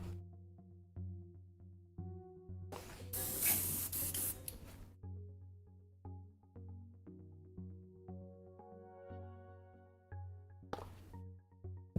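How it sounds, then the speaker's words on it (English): An airbrush sprays paint onto Mollog's Mob miniature mushrooms: one long hissing burst of about two seconds, then a brief second spurt near the end, both close and loud over a steady low hum. "or at least the airbrushing for the mushrooms"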